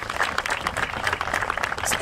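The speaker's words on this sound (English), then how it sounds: "I need that to walk around with me so I can give myself a round of applause for all the things that I do" A short round of applause from a small group, a brisk patter of clapping hands lasting a couple of seconds, moderately loud and steady with no speech over it.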